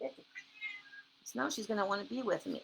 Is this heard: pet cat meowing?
yes